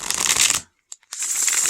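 Movie-themed tarot cards riffle in a fast fluttering burst, go silent, give a couple of light taps, then riffle again, loud and close.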